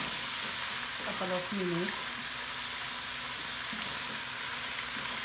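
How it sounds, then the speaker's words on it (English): Chicken roasting in a pan gives off a steady, soft broadband sizzle that runs the whole time, with a voice talking briefly over it early on. "It's roasting very well, so we will let it cook"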